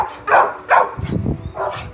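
A Dogo Argentino barks several times in quick succession, loud and close, with short sharp yelps mixed among the barks.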